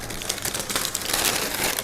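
Crinkling of baking paper being lifted off a freshly baked, very hot sourdough loaf, a close, continuous papery rustle with small crackling bursts and no speech.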